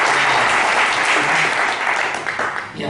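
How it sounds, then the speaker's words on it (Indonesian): An audience in a church claps together loudly and steadily, a dense crowd of hands close by. The applause thins and tapers off toward the end. "sekali lagi beri tepuk tangan buat hafalnya"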